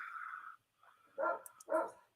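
Dog named Chloe barking, two sharp close barks in quick succession following a brief whine-like tone.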